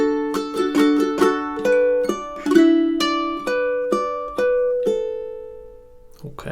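Ukulele chord melody played alone with steady strummed chords and plucked melody notes, measures 29 to 32 of a fun summertime tune, bright and close with clear ringing sustain between strums.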